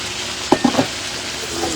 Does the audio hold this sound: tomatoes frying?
yes